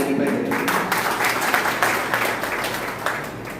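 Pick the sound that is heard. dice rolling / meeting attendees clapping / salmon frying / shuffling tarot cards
meeting attendees clapping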